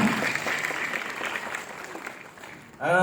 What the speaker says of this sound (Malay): satu tepukan gemuruh untuk mereka